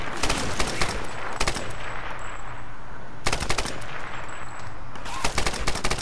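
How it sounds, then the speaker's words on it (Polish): Kalashnikov fire in the Tomb Raider video game comes in loud, close bursts of rapid automatic shots, several volleys separated by short gaps, with a faint game background between them. "Kurde, nawalają z kałasza."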